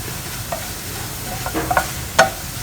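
Food sizzles steadily in a hot pan while being stirred until golden brown, with a few soft scraping clicks and one sharper knock of the utensil over a constant low hiss.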